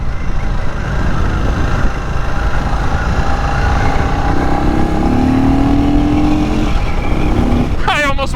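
A 2023 Indian FTR R Carbon motorcycle runs under way with a steady engine drone and wind rush, the engine pulling up in pitch before a brief shift near the end.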